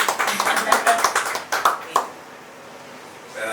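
A press conference audience giving a short round of scattered hand claps that fade after about two seconds, followed by quiet room tone.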